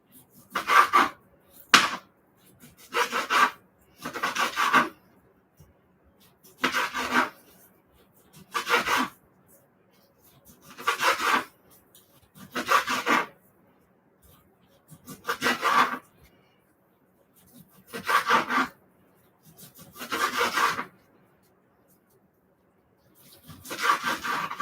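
A kitchen knife sawing back and forth through meat late at night, producing a series of rasping, scraping strokes in an uneven rhythm, close and moderately loud with short pauses between strokes.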